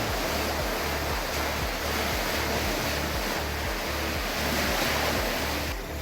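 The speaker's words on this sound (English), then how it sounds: "the wind's up a bit, it's about 14 knots" Steady wind and rolling waves rush past a sailing yacht crossing the Great Australian Bight in about 14 knots of breeze, a continuous loud wash of surf with rhythmic low surges of the hull, and no voices.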